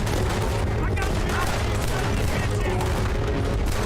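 Dense, continuous gunfire from a Red Dead Redemption 2 gunfight, with loud overlapping shots and booms filling the whole stretch and a voice buried in the din.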